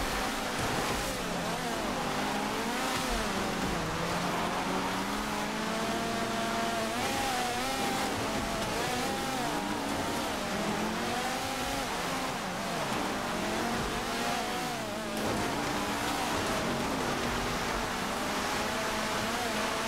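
Race cars in a GTA 5 race, Massacro and Omnis, with engines revving and droning steadily throughout, pitch rising and falling as they accelerate and shift, loud and continuous with no talk.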